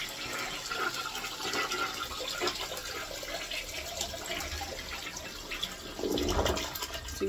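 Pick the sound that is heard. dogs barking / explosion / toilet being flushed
toilet being flushed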